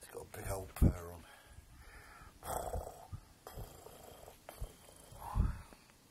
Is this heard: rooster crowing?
no